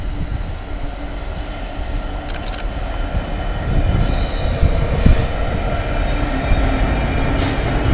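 Class 66 freight locomotive 66.709 in new livery passing at Nuneaton, a heavy loud rumble with wheel squeal and rail clatter growing as it goes by.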